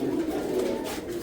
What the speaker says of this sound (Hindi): शिराजी कबूतर भी अवेलेबल है मेरे पास